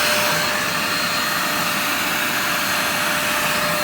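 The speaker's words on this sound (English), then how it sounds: "So this is the blower mode." An 800W vacuum cleaner set to blower mode whooshes with a steady, loud broadband roar and a faint constant whine, holding unchanged throughout with no voices.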